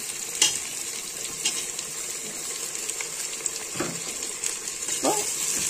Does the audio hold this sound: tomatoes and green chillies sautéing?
yes